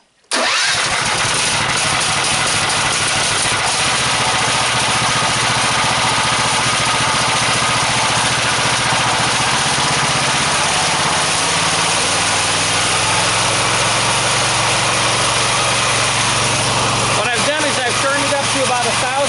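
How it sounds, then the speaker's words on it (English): A small engine driving a DC generator starts with a sudden loud catch and then settles into a steady, droning idle close by, its tone shifting slightly partway through. "Choke the engine. It's set it idle."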